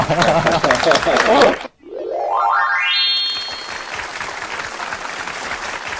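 A studio audience on a televised stone-appraisal show bursts into loud applause that stops abruptly, then a rising, springy boing sound effect swells and fades under a busy crackling background.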